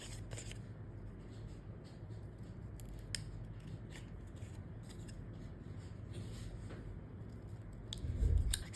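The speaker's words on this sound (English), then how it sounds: "Then you need to cut the screw flap at this side" Scissors snip steadily through the flap of a paper VHS tape box, close and fairly quiet, a run of small crisp cuts with a slightly louder handling sound at the end.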